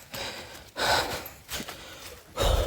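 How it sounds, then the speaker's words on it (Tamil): Heavy breathing from a person just after running comes as a few close, loud gasping breaths with short pauses between them, with no speech. "அதான் அப்படி மூச்சு வாங்குது."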